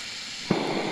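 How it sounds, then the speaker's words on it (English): A JetBoil Zip stove valve opens with a brief burst, then releases a steady, close hiss of escaping gas. "You'll hear the gas coming out."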